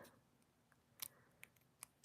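Scissors clipping long stiletto fingernails, four or five small crisp snips spaced about half a second apart, close and quiet.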